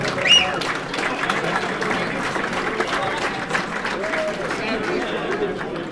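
A dinner crowd applauds the college's Purple Eagles baseball players at a first pitch dinner, with dense, steady clapping throughout and a murmur of voices mixed in.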